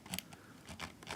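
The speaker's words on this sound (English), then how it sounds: "For the sound test, we can kind of click left, right," A Rapoo VT9 Pro 8K gaming mouse is clicked with its left and right buttons, giving a handful of quick, crisp, quiet clicks spaced irregularly and close up, with no voice over them.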